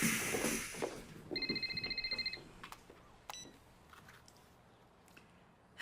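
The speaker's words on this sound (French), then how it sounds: "C'est le téléphone cochon" A telephone rings in a French-Canadian family sitcom scene, a clear electronic double-trill ring repeating about ten times in a quick pulsing burst, then stopping, with quiet room noise and a few clicks after.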